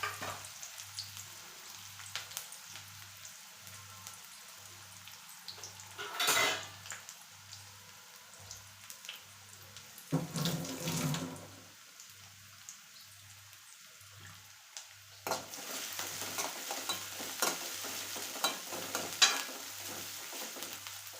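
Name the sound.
onions frying and being stirred in a pan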